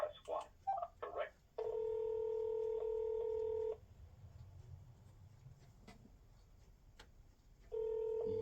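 Telephone keypad tones sound as a button is pressed in a police dispatch phone menu: two long, steady, clear beeps, the first following brief speech.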